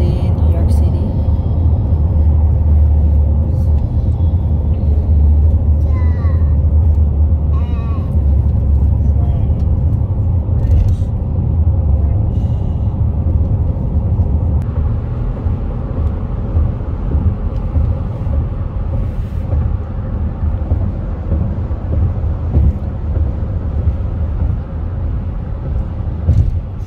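A car cruises along a road in New York City on a sunny day, its steady low engine and tyre rumble continuous and close throughout, with muffled talk inside.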